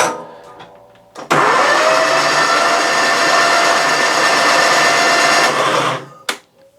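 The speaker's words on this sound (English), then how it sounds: "the engine still turns over, the starter motor still works" An old John Deere mower engine, badly deteriorated after sitting somewhere damp, is cranked by its starter motor. A loud, steady mechanical whir runs for about five seconds after a short false start, then cuts off with a brief final spin.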